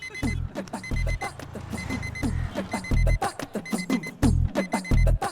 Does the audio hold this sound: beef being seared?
no